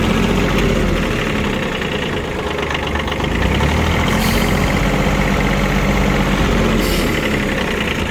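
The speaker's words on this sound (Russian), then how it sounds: "Трактора B117, B116 и так далее все запускаются характерно именно так." A Kubota B1-17 Japanese mini tractor engine runs at a steady idle, its loud low diesel chug continuous and close, with no voices.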